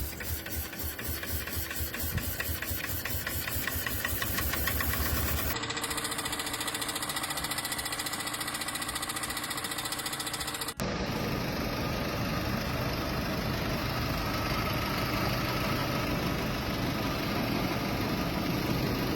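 A customer's car engine runs steadily after a coolant fitting popped off and it nearly overheated, giving a loud continuous mechanical drone with a rhythmic ticking that changes character partway through, with no talk.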